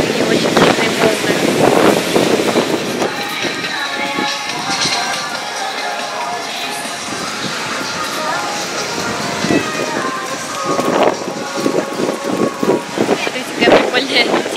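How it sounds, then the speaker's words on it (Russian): Strong wind buffets the microphone at the seaside during a storm, with big waves surging and crashing in bursts, loud and close, while a person talks in between. "Но очень сильный ветер и очень сильные волны."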